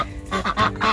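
Backyard geese and ducks in a winter coop honk and quack in a quick run of several loud, nasal calls, close by.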